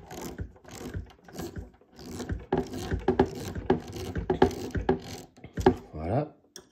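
Screws being tightened on a die-cast Nissan Skyline GTR model kit, giving small clicking, ratcheting mechanical sounds close by, with someone speaking over much of it.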